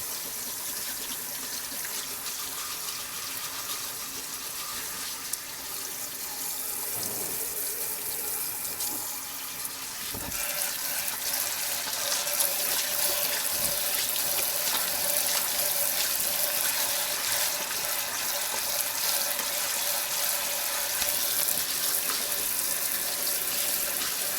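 Hot tap water runs steadily into a sink for the whole stretch, a continuous hiss and splash that grows slightly louder partway through, with no voices.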